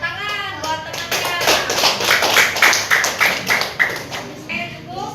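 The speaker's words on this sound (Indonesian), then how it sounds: "Ya, tepuk tangan buat temannya." Classmates clap for a group after their presentation in a classroom, a steady run of close, fairly loud hand claps from several pupils lasting a few seconds, with light tapping mixed in.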